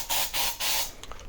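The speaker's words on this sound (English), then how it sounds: "you spray it in the air" Aerosol insect repellent sprays into the air in three loud bursts of hiss, each about a fifth of a second, followed by fainter scattered spray noise.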